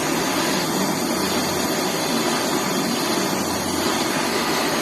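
A butane torch flame heating a welding rod gives a close, continuous roaring hiss that holds steady and even throughout, with no voices.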